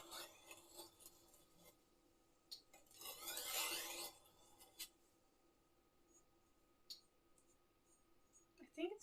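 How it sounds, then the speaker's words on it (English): Knife sharpening during holiday preparations in Finland: a short burst of rasping strokes in the middle, with a few scattered clicks and small scrapes around it, quiet and close. "Me pretending that I can sharpen knives is the funniest shit."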